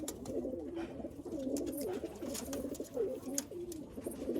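Punjabi Malwai pigeons coo close by in a continuous, overlapping stream of soft, throaty, rolling calls, with no voices.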